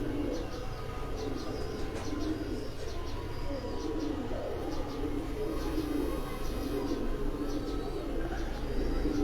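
Pigeons on a rooftop loft coo softly and repeatedly beneath a steady, loud background rumble, with faint chirps scattered through.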